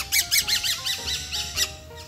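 Birds in a large indoor aviary built inside a house, giving a quick series of loud, close, harsh squawking calls in an uneven rhythm over faint background noise.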